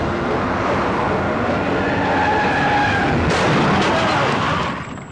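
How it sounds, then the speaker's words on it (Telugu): Two cars race toward each other at high speed, a loud, continuous rush of engine and tire noise with skidding that builds and swells for several seconds before fading at the end. "2 కార్లు విపరీతమైన స్పీడ్ లో వస్తున్నాయి."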